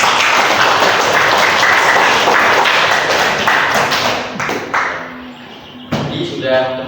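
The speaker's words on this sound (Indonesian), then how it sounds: "Sekali lagi tepuk tangan untuk kalian semua." Loud audience applause after group presentations at a teachers' coaching session, dense clapping close by that tapers off with a few last claps near the end.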